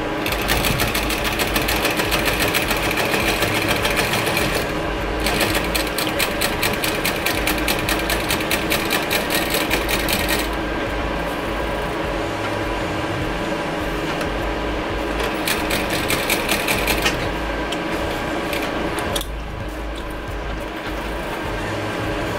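A sewing machine stitches embroidery onto a football, running in long steady bursts with brief pauses between them, close and fairly loud against a constant mechanical hum.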